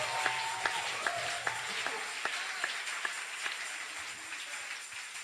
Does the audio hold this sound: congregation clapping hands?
yes